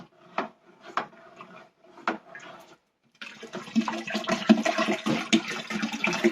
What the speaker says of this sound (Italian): Quindi iniziamo a buttare acqua.